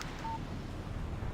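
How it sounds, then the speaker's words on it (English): Phone text message alert in the video game Alan Wake: a single short electronic beep near the start over a low, quiet background hiss, with no talk. "Text message from Barry."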